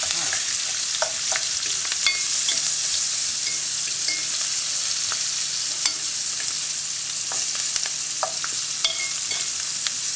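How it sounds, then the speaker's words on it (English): Onions cooking in a pan for smothered pork chops, a steady broadband sizzle with frequent light scrapes and taps of a utensil stirring, close and continuous with no talking. "put the onions in there. Like that. Let that cook for a little bit."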